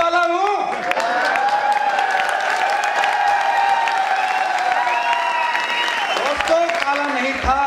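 An audience claps and cheers at a Hindi talk event, a dense, sustained round of applause with whoops, while a voice talks over it and comes through clearly near the end.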